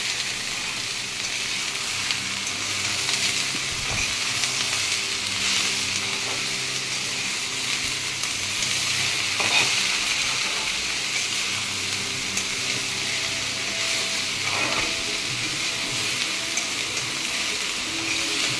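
Sweet potato and cabbage curry frying in a pan on the stove, a loud, continuous close sizzle with occasional stirring scrapes, no voices.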